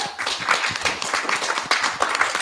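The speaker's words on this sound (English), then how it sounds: "I love the clapping here" Audience applause at a local council ward election meeting in Paraparaumu: a room full of hands clapping steadily and fairly close, a dense patter with no talking over it.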